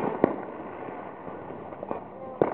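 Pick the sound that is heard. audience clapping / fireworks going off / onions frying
fireworks going off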